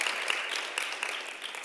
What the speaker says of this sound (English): Please give a round of applause for our first time today.